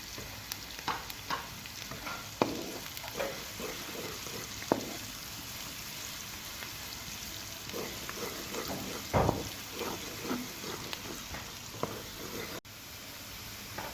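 Onions frying in ghee with occasional stirring, a steady close sizzle and crackle with scattered scrapes and clinks of a spoon against the pan, no talking.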